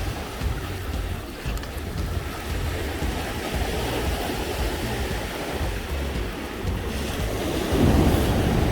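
Sea waves wash and surge along the East Sea coast near Pohang, Korea, during a surf-fishing outing, a steady broadband roar mixed with wind buffeting the microphone, swelling louder near the end.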